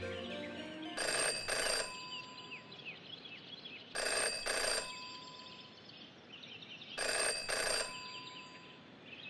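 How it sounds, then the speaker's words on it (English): Three separate bursts of a bright telephone bell ring out in the video game Jenny LeClue, each a double ring with long gaps, loud and clear over a quiet ambient background. "Jenny had learned never to ignore a ringing phone."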